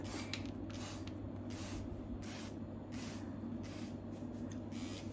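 A handheld spray bottle misting water over potted plants from above, giving a series of short hissing bursts in a rough rhythm, close and clear with no talking.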